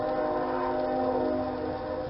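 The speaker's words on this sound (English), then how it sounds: "Sorry about the train." A passing train sounds a steady, sustained horn tone over a low rumble, heard from a short distance indoors for about two seconds with no talking.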